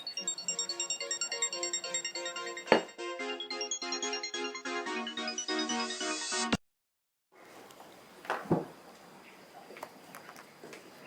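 A phone rings with an incoming call, a loud melodic ringtone playing repeated tones for about six seconds before cutting off abruptly, followed by quiet room noise and soft handling sounds.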